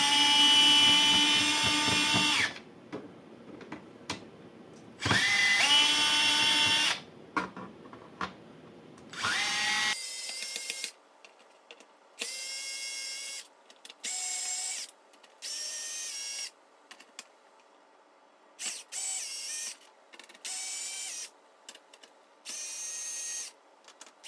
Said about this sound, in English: These happen to be a little bit deeper, so I had to use a regular screwdriver for this.